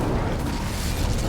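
Incendio fire spell cast in the video game Hogwarts Legacy, a short dense whooshing roar, loud and close, filling the brief moment without speech.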